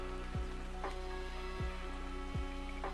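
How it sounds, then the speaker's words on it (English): Rain falling outdoors as a steady, soft hiss of drops on surfaces, even and continuous, with a few faint low descending tones recurring in the background. "God, rain."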